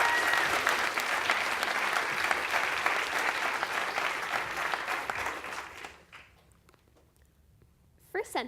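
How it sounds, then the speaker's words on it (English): Loud, dense audience applause for a FameLab Ireland 2018 final contestant fills about six seconds, then fades into quiet with a brief burst of noise near the end. "Please, a super massive round of applause for Kate Finucane!"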